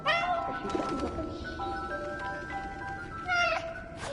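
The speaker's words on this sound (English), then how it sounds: "Why is that cat meowing?" A cat meows in drawn-out, wavering cries in a wartime game scene, a few close calls rising and falling over a muffled background with soft cooing and bird-like tones.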